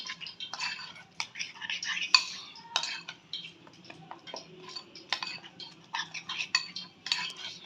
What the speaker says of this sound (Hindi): इसको चम्मच की मदद से हम करेंगे अच्छे से मिक्स